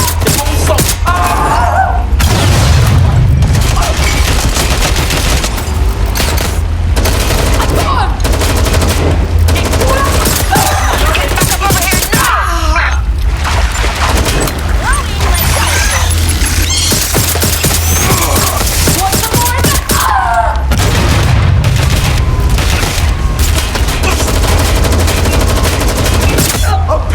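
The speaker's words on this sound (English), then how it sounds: "I'm pinned down! And that's the size of it. Shots fired!" Loud, dense gunfire and explosions from Watch Dogs Legion: sustained bursts and rapid shots with heavy booming thuds, continuous and close throughout, with shouted voices mixed in.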